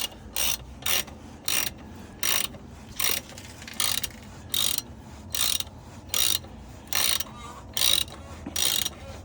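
A ratchet tightens the oil drain plug on a 2011 Toyota Corolla: about fifteen evenly spaced bursts of close, crisp clicking, one pull every half second or so, with nothing else heard.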